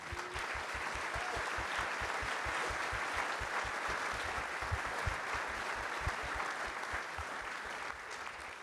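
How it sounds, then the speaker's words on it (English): An audience at a 2018 sustainability milestone meeting claps together in sustained, even applause that keeps going for several seconds at a steady level, with no voices over it. "Please stand up so we can give you a round of applause."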